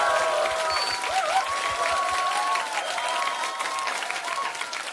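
Applause from the studio audience at a live Korean political radio show taping fills the space, dense and steady at first, then thinning into scattered clapping near the end.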